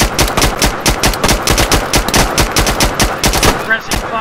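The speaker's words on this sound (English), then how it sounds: "We're going to go with our machine gun" Machine gun fire in a tactical shooter video game, rapid loud bursts of automatic shots in a steady repeating rhythm close up, with a brief pause near the end before firing resumes.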